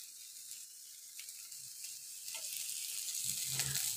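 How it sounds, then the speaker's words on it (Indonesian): Leftover satay marinade frying in a generous amount of oil gives a steady sizzling hiss throughout, building louder toward the end with a few soft stirring clatters. "kita goreng dengan tambahan minyak agak banyak goreng sampai matang"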